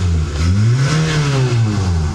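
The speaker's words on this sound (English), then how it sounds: "I'll just give it a little rev." Close, loud engine rev from a 1999 Toyota Celica SS-2, a USA import. The pitch climbs smoothly, holds briefly, then eases off across two seconds, with no voices.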